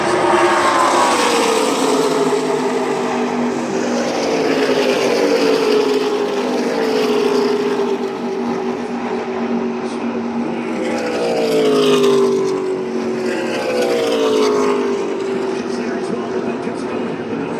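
Stock cars race around a tri-oval track under sunny skies, engines droning loud and steady with repeated rising and falling pitch as the field passes the stands.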